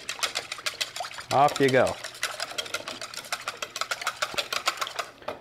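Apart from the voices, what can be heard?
whisking wet cornbread ingredients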